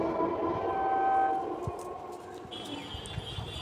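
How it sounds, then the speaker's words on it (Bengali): An EMU local train departing towards Howrah on the South Eastern Railway sounds its horn in sustained tones over a low rolling rumble, with a higher horn note joining partway through. "বর্তমানে ট্রেনটি ছেড়ে হাওড়ার উদ্দেশ্যে রওনা দিচ্ছে"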